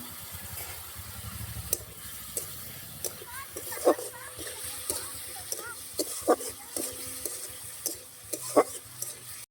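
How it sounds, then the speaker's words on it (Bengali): Pieces of taro drop into a sizzling spiced curry of koi and lata fish, then get stirred, with scraping spoon strokes and soft splashes over a faint sizzle, recurring every second or so at moderate volume. "এবার কচু আমরা দিয়ে দেবো"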